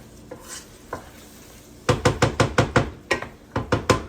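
A spoon stirs and scrapes in a pot of sizzling lentils, a quick run of knocking strokes over a faint sizzle, close up and alone.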